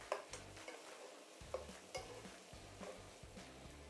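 Spices for pilau are stirred and mixed in a pot, a quiet close sizzle under irregular scraping and light knocks of a spoon against the pot.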